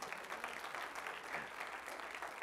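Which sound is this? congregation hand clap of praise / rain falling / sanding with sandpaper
congregation hand clap of praise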